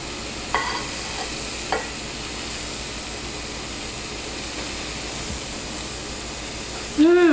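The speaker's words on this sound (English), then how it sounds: "Hear the sizzle." Steady soft sizzling of mushrooms frying in a pan, with a few faint clinks and stirring sounds and a brief squeak near the end.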